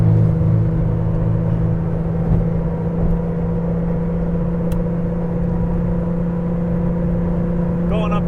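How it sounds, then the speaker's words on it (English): A 1983 Porsche 911 Safari climbs a hill in fifth gear at half throttle, its engine a steady, close, low drone with a faint rise as it gradually accelerates. "half throttle, gradually accelerating up to 80."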